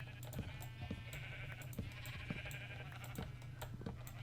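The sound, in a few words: sheep bleating in the video game Minecraft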